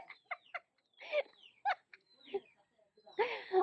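A rooster and a hen cluck and murmur in short, close calls, with a louder squawk near the end and quiet gaps between.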